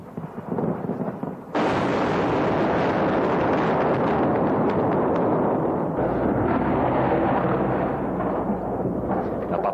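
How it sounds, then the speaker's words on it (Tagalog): Bombs exploding during an air raid on Baghdad near the Planning Ministry, a continuous roar of heavy blasts and rumbling that surges in suddenly and stays loud and dense, like a thunderstorm of detonations. "Sunod-sunod ang patak ng bomba sa kanya."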